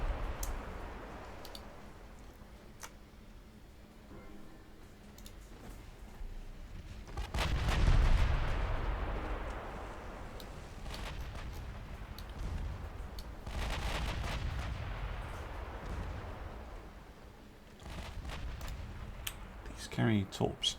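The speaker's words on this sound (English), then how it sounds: "Oh, 5-inch guns are firing." Naval 5-inch guns fire in a video game, sharp booming shots and clicking game sounds spread across the clip, with someone talking over them.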